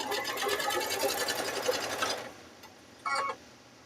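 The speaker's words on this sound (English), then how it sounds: "and keep sewing." A sewing machine runs steadily, stitching fabric strips for a rope bowl, with a rapid even whir. It stops after about two seconds, then gives one short burst of stitching, close and alone.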